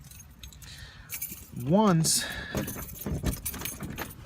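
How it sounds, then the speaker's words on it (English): A set of keys to a rented property jangles up close in a bright metallic rattle that swells and fades, with someone talking over it and faint background hum. "So you get in these keys here."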